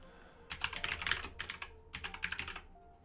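Typing on a computer keyboard during Python and JavaScript web development work: quick clusters of key clicks in two bursts with a brief pause, close and fairly quiet, no talking.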